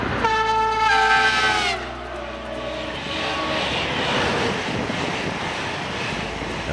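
A train on the new Wendlingen–Ulm high-speed line is heard with a short horn blast followed by a loud rushing roar that fades to a steady rumble.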